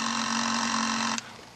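A telephone rings as a sound effect in an old-time radio suspense drama, one steady loud buzzing ring that stops abruptly, leaving a faint hum behind.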